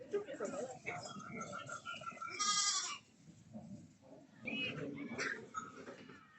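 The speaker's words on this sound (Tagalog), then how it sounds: "Yung pala kambing." Goats at Kam Tin country park farm bleat a few times, a nasal wavering cry standing out near the middle, while someone talks over and around them.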